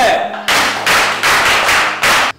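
A group of people clapping together in several loud, separate bursts, each about a third of a second long with short gaps between them, out in the open at a street quiz.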